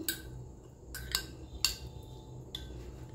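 A spoon clinks against a bowl while bottle gourd raita is stirred, four or five sharp, light metallic taps spaced irregularly over a quiet background.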